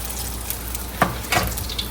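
Conch fritters fry in hot grease with a close, steady crackling sizzle, broken by a few brighter spitting pops around the middle.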